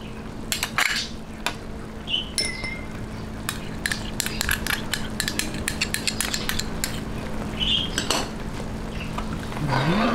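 Utensil scraping and clinking against a pot while pancit noodle ingredients are stirred in reduced broth, irregular metallic taps and scrapes at close range, with no talking.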